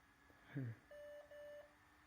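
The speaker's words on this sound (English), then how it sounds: "now you listen to the beeps" Two steady electronic beeps from a Lenovo computer's BIOS error code, one short and one longer, sound faintly and thinly after a brief low thump, with quiet room noise between.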